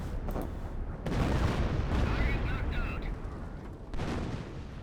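Artillery barrage in the World War II strategy game Company of Heroes, a continuous low rumbling roll of distant shell impacts with a few sharper hits, under a voice.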